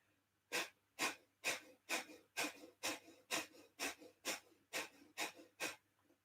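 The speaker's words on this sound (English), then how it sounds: "start with your breath of fire 12 times" Rapid rhythmic breath of fire during a yoga practice: about a dozen sharp, forceful nasal exhalations at a steady pace, close and clear, with no talking.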